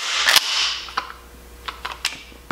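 Pump action of a Mossberg 590 Retrograde trench gun with a corn cob fore-end being worked: a sharp metallic rack up front, then several quieter clicks and clacks, close and isolated.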